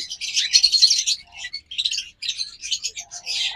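A pair of pet budgie-type birds, one light olive and one pure green, chirp and tweet in quick, busy bursts close by, nearly continuous across the whole stretch.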